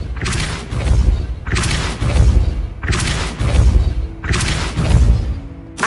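Four heavy, booming spell blasts in Hogwarts Legacy burst out at steady intervals of roughly a second and a half, each a loud thudding impact that rolls off quickly before the next.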